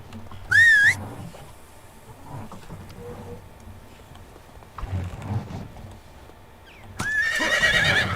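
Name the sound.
horse neighing, from the video game Medieval Dynasty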